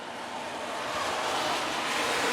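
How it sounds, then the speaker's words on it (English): Cars passing on wet pavement during evening rain in western Washington, tires giving a broad swelling swish that builds steadily louder as a vehicle approaches, with no talking. "Cars running in the rain. The swish of tires against the wet pavement."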